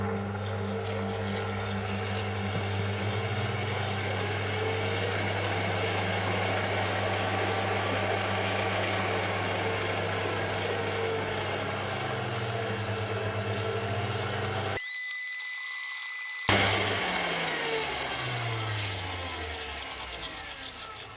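Electric stand mixer whisking cooked sugar syrup at 118 degrees into eggs for a pastry, a steady motor whine and whirr that shifts pitch, briefly cut off near the end and then resumes.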